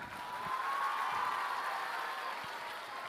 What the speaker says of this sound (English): clap your hands even louder